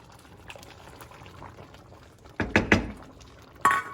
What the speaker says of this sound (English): So now what we're going to do, we're going to dump our tomatoes in.